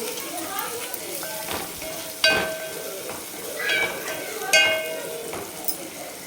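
Turmeric stirred into a sizzling spice tempering for kadhi, with a spoon scraping and clinking against the pan over a soft, steady sizzle, and a few louder metallic knocks.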